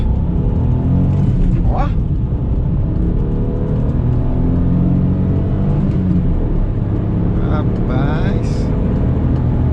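A Peugeot 208 1.2 Puretech pulls in third gear at speed with a steady, loud engine drone and road roar, while people talk over it inside the cabin.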